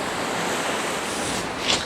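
Strong wind blows steadily along a seashore, a dense, even roar with the wash of nearby surf mixed in and a slight swell near the end; no one speaks.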